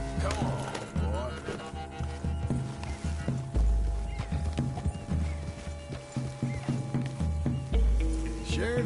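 A horse in the video game Red Dead Redemption 2, hooves clip-clopping steadily along with snorts and a whinny, over rumbling ambient sound and occasional thuds.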